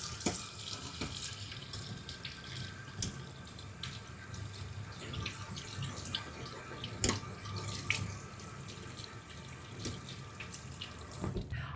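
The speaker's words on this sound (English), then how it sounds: "We're gonna set that strainer in the sink and go ahead and give those beans a nice rinse." Tap water runs steadily into a kitchen sink, splashing over black beans held in a strainer, a continuous close hiss with faint drips and clinks, with no talking.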